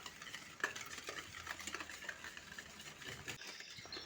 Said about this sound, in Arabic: هنا راح نزيد نخلطهم كامل مع بعض كما راكم تشوفوا